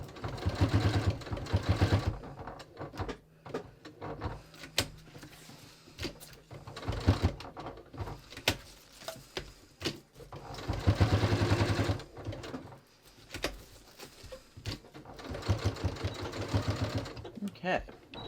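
Domestic sewing machine stitching a trouser waistband with Velcro at the center back, running in several short bursts that stop and start, close and moderately loud, with a person speaking between runs.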